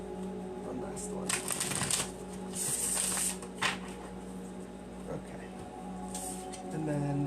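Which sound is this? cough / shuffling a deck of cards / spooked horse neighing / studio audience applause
shuffling a deck of cards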